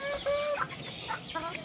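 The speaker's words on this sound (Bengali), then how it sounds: "আমাদের এই যে ম্যাঙ্গো কিন্তু কুচের ডাক দিয়ে দিচ্ছে।" Hen on a rooftop farm clucking in a quick run of short, tonal calls, close and fairly clear over faint background noise.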